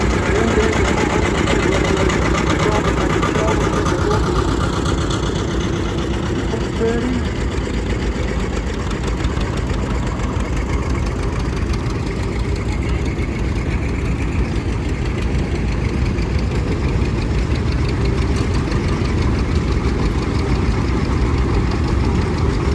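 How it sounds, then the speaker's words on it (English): A John Deere AR diesel tractor, the first diesel John Deere, running at a vintage tractor rally with a steady, low, throbbing engine rumble that holds throughout. "The John Deere AR, the first diesel John Deere."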